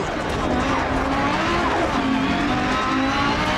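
Rally car in DiRT Rally on the Pikes Peak course braking hard, a loud steady engine and tyre roar filling the whole stretch with no pause.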